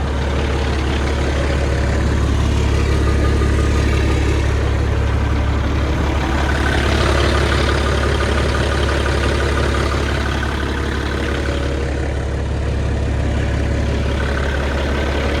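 A diesel truck engine idles steadily, a deep low rumble that stays loud and even throughout with no talking.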